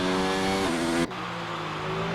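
Formula 1 car from F1 2019 on the Brazilian Grand Prix circuit, its engine holding a steady high whine that abruptly drops in pitch and level partway through as it slows for the pit lane, then carries on at a lower limiter-like drone.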